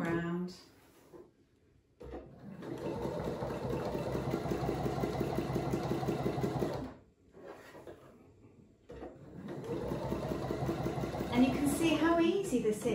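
A sewing machine does free-motion embroidery appliqué on fabric held in a hoop. Its motor hums and the needle chatters in long continuous runs with two brief pauses, and someone talks over the stitching.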